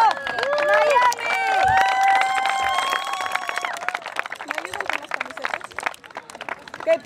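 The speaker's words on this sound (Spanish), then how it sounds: "A ver, un aplauso al equipo" A crowd at an outdoor regional migrant farmworkers' soccer tournament cheers and claps for the second-place men's team, Miami, at an awards ceremony; loud, continuous clapping mixes with shouts and raised voices.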